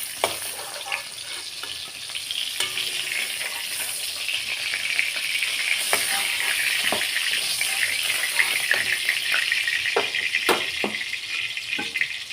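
Pointed gourd (potol) pieces fry in hot oil in a home kitchen, a steady soft sizzle with occasional crackles and a few sharp clinks of a utensil.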